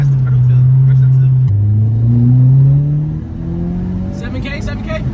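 A 2022 Subaru WRX with an ETS intake and tune revs hard, its engine note climbing steadily toward the limit and then dropping off, loud and close, with excited voices from inside the car.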